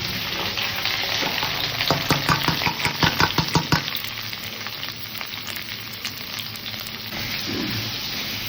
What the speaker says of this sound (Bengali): পেঁয়াজ অনিয়ন টমেটো লঙ্কা সব একসাথে ঢেলে দিচ্ছি